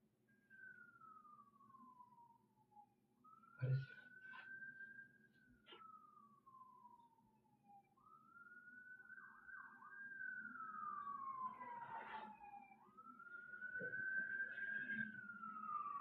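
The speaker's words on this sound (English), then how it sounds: "That was an ambulance passing by." An ambulance siren wails outside as the vehicle passes, its rising and falling tone sweeping steadily and swelling louder toward the end, with a brief thud partway through.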